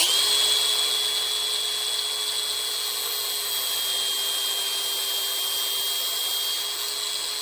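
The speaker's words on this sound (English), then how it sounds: "So what you can do is you can wrap your hose in masking tape and make your cut like right in the middle of the tape." A high, steady whine of a cutting tool slicing through AN hose wrapped in masking tape for a transmission cooler line, running continuously at close range with no talk.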